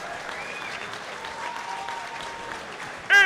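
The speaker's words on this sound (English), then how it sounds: "Ladies and gentlemen, another round of applause for these two amazing young fighters." A crowd claps for two young fighters after a Muay Thai MMA bout, a steady, moderately loud wash of applause sustained throughout, ending with a short, sharp burst at the very end.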